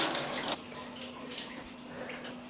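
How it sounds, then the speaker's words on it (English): Water rushes steadily from a handheld shower in a budget hotel bathroom at Jomtien Beach, Pattaya, a loud continuous hiss that drops slightly in force after the first half second and keeps flowing alone. "there's water rushing out of everywhere"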